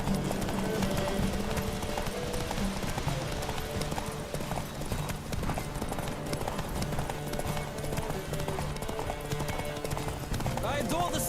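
Rapid hoofbeats of a galloping horse in The Witcher 3 pound on without pause, mixed with game music and a voice talking over the top.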